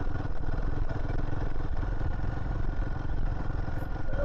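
A Royal Enfield Himalayan 450 motorcycle idles steadily while being parked on a hill road, a continuous low, thumping engine rumble with faint mechanical clatter, close and even in level, with no talking.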